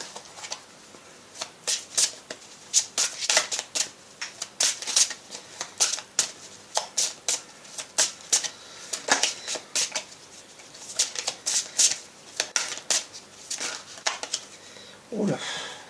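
Oracle cards shuffled by hand for a tarot reading, a long run of quick, crisp riffling flicks in uneven bursts, close and fairly soft, with no talk over them.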